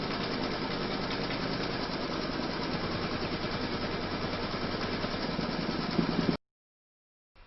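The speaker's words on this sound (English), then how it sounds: "Pop your hoop into your machine and stitch round number 3 to secure it." A domestic embroidery machine stitches round three of a fairy castle height chart in the hoop, a steady, fast, continuous mechanical whir that runs close and loud for about six seconds, then stops abruptly into near silence.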